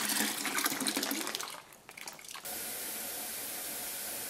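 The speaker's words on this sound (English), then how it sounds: "Add 1 gallon of warm water to the bag to rinse out any remaining juice" Warm water pours and splashes steadily into a winemaking fermenter bag, then shifts to a smoother, hissing flow like liquid running from a tap.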